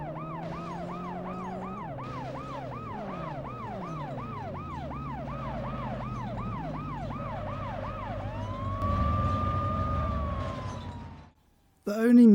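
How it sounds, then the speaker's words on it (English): A police car siren in the PS1 video game World's Scariest Police Chases wails, rising and falling rapidly over engine noise, then shifts to a long sweeping tone before cutting out abruptly. "Sound effects are okay, crashing and squad car sirens"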